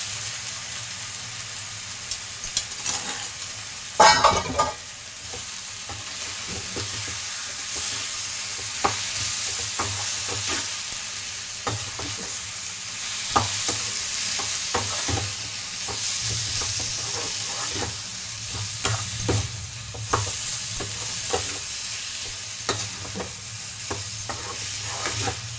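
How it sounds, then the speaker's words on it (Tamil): Strained mutton bones tipped into a hot pan for mutton bone soup, sizzling and frying steadily with a heavy pour around the start and repeated sharp scraping stirs throughout, close and fairly loud. "இந்த வடிகட்டின எலும்பு இதில் கொட்டிக்கிறோம்."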